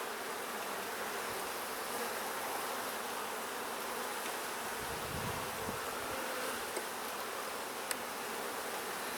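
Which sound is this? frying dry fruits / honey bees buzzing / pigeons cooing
honey bees buzzing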